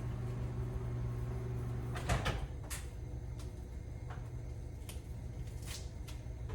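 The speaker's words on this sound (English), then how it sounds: "Let me get this out of the microwave." A microwave oven door is opened to take food out, giving a sharp click and clunk partway through, followed by a few light knocks over a low kitchen hum.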